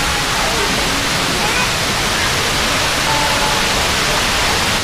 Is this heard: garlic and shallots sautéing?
no